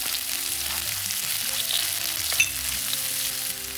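Garlic and white onion sauté in a pan with curry leaves, frying steadily in a continuous close sizzle with faint stirring clinks and no voices.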